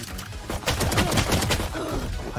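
Rapid gunfire in the shooter game Valorant during a tense final round, a dense burst of loud shots over about two seconds.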